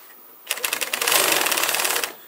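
Carpet binding machine with a quick-mount attachment serging 1¼-inch wraparound tape onto a carpet edge, a loud, rapid mechanical chatter that starts abruptly and runs for about a second and a half.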